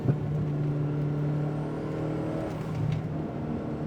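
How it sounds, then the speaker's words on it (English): A Talon car accelerating hard through a second gear pull, its engine note droning steadily and strongly, heard close up from inside with no talking. "Here's a second gear pull."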